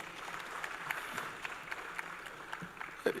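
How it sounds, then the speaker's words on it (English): A round of applause for a panel at an agricultural conference, faint and distant, a steady patter of many hands clapping for about three seconds with no voices over it. "Please, another round of applause for them."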